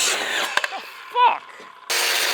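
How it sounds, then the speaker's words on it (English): A circular saw cuts through wood outdoors: a loud, steady broadband rasp at the start, then a stretch of quieter sounds and a brief voice, before the saw roars back up loud to the end. "We're going to take it outside and cut it with a circular saw."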